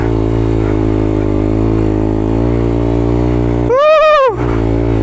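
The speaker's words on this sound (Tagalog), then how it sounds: "Oh, ayan na yung motor!" Honda CRF dirt motorcycle engine drones steadily nearby, then a loud revving pass with a sharply rising and falling pitch sweep near the end.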